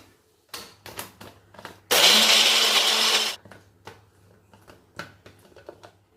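A mixer motor roars into a loud, steady blend of grapes and two ice cubes for about a second and a half, crunching through the ice, framed by clinks and handling noises before and after.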